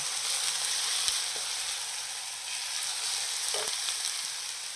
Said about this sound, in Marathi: कांदा चांगला गुलाबी होईपर्यंत आपल्याला परतायचा आहे.